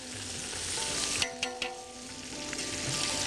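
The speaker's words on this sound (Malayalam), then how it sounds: "എണ്ണയിലിട്ട് നമ്മൾ പൊരിച്ചെടുക്കുന്നു." Fish pieces deep-frying in hot oil give a steady, close sizzle throughout, with a few brief clinks of a utensil near the middle.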